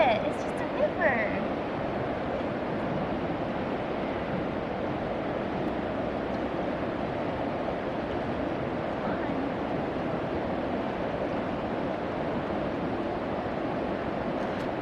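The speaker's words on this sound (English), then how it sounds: "Look at it, it's just a river." A low summer river at a campsite in British Columbia flows with a steady broadband rush, constant and fairly near, with a faint voice briefly at the start.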